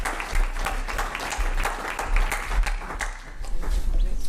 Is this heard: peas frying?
no